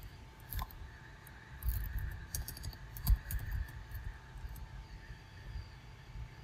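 Typing on a computer keyboard while working on a Windows Server 2016 Datacenter setup, a run of quiet, irregular key clicks over a low background hum, with no talking.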